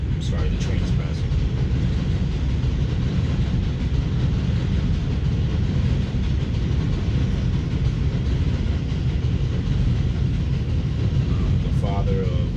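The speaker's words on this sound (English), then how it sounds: "the train is passing." A train rolls past in New York City, producing a continuous loud, low rumble that holds steady throughout with a few faint clanks on top.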